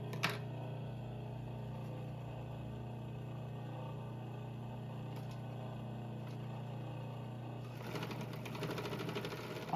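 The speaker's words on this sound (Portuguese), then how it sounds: "E depois eu vou passar overlock também nessa costura aqui." Overlock serger stitching a fabric seam, a steady low mechanical hum and rapid whirring run that holds evenly for nearly ten seconds, with a brief click at the start and a slight change near the end.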